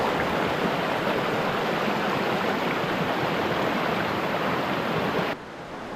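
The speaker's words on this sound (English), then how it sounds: "very fast running river, lots of little cascades" Fast-running Pinch River rushing over many little cascades, a steady, loud broadband roar of water that continues unbroken, dropping slightly in level near the end.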